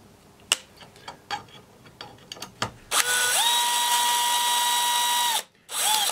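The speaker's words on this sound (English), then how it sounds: "We're going to install the second and third holding pan head screw." A cordless drill on low gear and mid torque drives pan head screws into an isolator, first a few sharp ratcheting clicks and taps, then a steady whining run that stops briefly and starts again.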